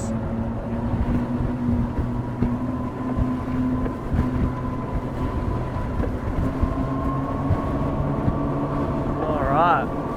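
A Caribbean 27F motorboat runs at speed offshore, its engine giving a loud, steady droning hum with a constant pitch and wind and water noise over it. A voice speaks briefly near the end.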